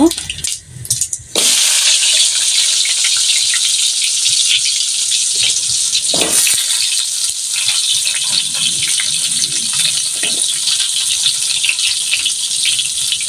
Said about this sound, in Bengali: এখন হচ্ছে আমি আলুগুলো ভেজে নেব